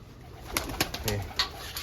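Pigeons coo softly close by, a few low throaty calls spread over a couple of seconds.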